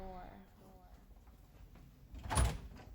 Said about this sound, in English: She opens the door.